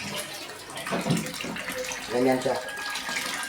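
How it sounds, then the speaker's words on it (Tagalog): Water gushing from a homemade water pump under test, a steady splashing flow with surges, heard under people talking nearby. "So ito na yung testing nung yung water pump natin."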